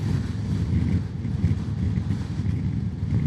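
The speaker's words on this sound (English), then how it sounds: "It's so windy today." Steady, loud wind buffeting rushes over a rider on a Royal Enfield Classic 350 along a windy Atlantic coast road, a continuous low roar with slight gusting swells and no other distinct sounds.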